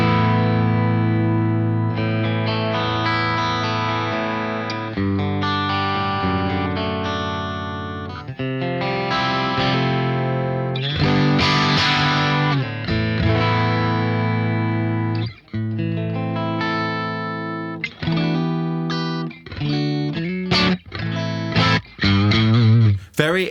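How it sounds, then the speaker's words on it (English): A VOLA OZ V3 MC electric guitar in Fiesta Red plays on pickup selector position 2, ringing sustained chords and single notes through effects with mild drive and chorus, with some strummed passages and sudden stops toward the end. "That's a nice sort of dynamic feeling humbucker."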